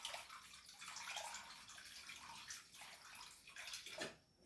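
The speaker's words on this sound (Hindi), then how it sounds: "तो अब ले लिया मैंने थोड़ा सा चॉपर में पानी।" Water pours into a kitchen chopper in a home kitchen, a close, steady splashing gurgle that tapers off at the end.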